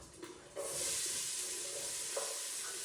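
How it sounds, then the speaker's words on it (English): Onions hit hot olive oil in a pan and break into a steady, fairly loud sizzle that holds for the rest of the clip, with a few soft stirring clicks and no talking. "I'm going to put my onions in now with a bit of olive oil."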